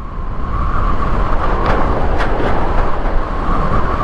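Loud, steady roar of a Honda PCX scooter moving along a highway, a constant rumbling engine and wind noise with faint passing traffic.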